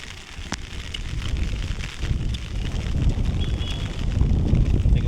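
Rain falls steadily outdoors, a dense hiss and patter that grows slowly louder with occasional sharper drops, and no voices.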